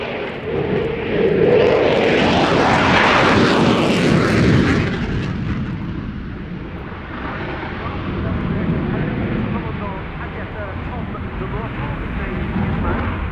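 Belgian Air Component F-16 of 31 Squadron, 10 Wing Kleine Brogel, flying a display at an air tattoo: a loud jet roar swells to a peak and fades, then a steady, lower rumble continues.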